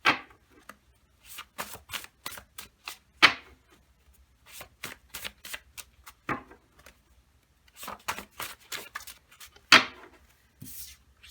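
Oracle cards are shuffled by hand in quick crisp bursts of riffling and slapping, close and clear against near silence, with short pauses between the flurries.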